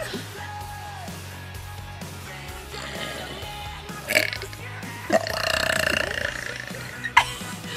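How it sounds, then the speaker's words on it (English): Burps in a playful burping contest, with a few short, abrupt belches around the middle and end over a steady noisy background, and some faint talk in between. "Come on, burp already."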